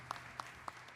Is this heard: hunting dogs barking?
no